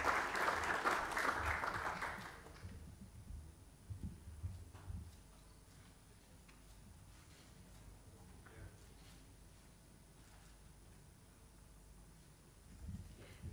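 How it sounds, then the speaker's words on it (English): A short burst of audience applause at a sports conference award presentation lasts about two seconds, then gives way to quiet room ambience with faint shuffling. "A round of applause, please, ladies and gentlemen."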